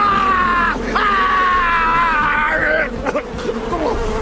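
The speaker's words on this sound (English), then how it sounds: "Oh, no, not the bees!" Swarm of bees buzzing, a loud droning hum that wavers and shifts pitch for about three seconds, followed by scattered shorter buzzes over a noisy background, with no speech.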